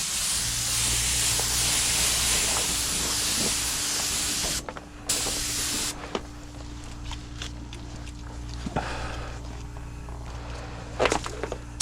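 Steady loud hiss of a paint spray gun laying a second coat on a car quarter panel during a spot repair, with two brief pauses and scattered light clicks and handling knocks near the end.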